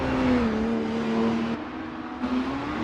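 Porsche 992 GT3 Cup race cars lap a circuit during a European series session, their engines giving a sustained, fairly close whine that steps in pitch as gears change.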